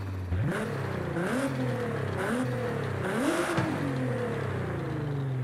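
A car with a race exhaust in the video game Forza Horizon 5 revs repeatedly, its engine note rising and falling in several swells over a steady idle drone, close and loud, with no talking.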